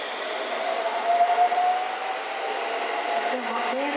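A Japanese regional train passing close by on a line toward the Noto Peninsula in Ishikawa, giving a steady, loud rumble and rail hum with a faint tonal whine, and no voices.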